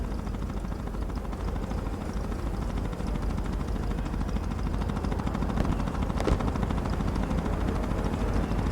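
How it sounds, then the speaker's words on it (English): Low, steady rotor drone of a helicopter in War Thunder rumbles continuously under a busy battlefield din, holding a constant level throughout, with a brief sharp crack near the middle. "I think I hear a helicopter."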